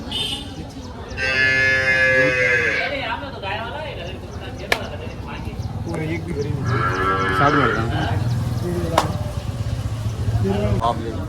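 Buffaloes at the Dhule livestock market give two long, loud bellows, one early and one midway, over a busy background of people talking and market bustle.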